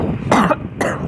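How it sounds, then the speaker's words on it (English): Two short, harsh coughs close to the microphone, a beat apart, with a faint background hum behind them. "Coughing."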